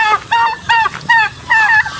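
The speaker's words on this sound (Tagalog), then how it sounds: "So yung iba nating manok nandun sa kabila naman." Farm fowl calling outdoors on a free-range farm that also keeps pigs and goats: loud, honking bursts come in four close, repeated clusters.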